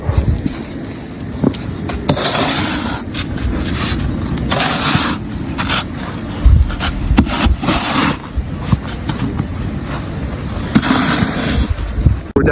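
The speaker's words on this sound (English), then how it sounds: "Heavy snow, windy conditions." Strong wind in a heavy snowstorm in Brick Township, New Jersey, buffets the microphone with loud, gusty rumbling and irregular surges that keep going throughout.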